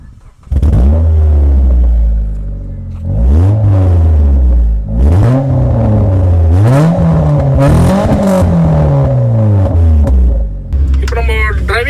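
Mitsubishi Lancer Cedia fitted with a full-system exhaust revs loudly and up close, its engine climbing and dropping through several throttle blips before settling into a rough idle.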